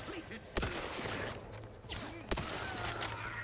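Two sharp gunshots ring out in The Outer Worlds 2 during a siege battle, spaced well apart over a steady low hum and faint background activity.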